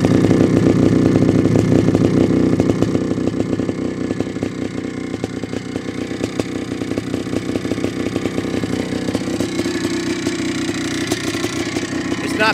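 A 1992 Yamaha WR500 works replica motorcycle engine idling, a loud, rapid single-cylinder putter that is close and steady, dipping slightly in level after a few seconds and continuing unbroken.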